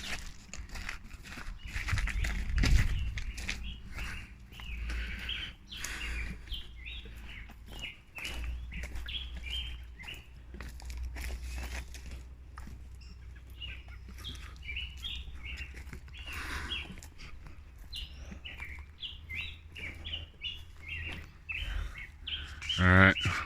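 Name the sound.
birds chirping and singing in trees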